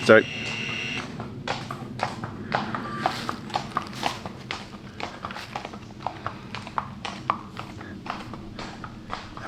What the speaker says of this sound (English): Horse going past just now.